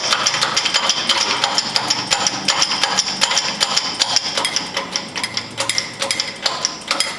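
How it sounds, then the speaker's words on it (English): An AC compressor clutch pulley bearing is pressed out in a workshop, giving a steady, fast metallic clatter of rapid ticks and knocks that runs close and loud, unbroken from start to finish with no talking. "Now when you press it out, you'll hear it pop."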